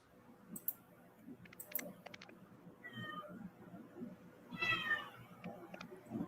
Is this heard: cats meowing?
yes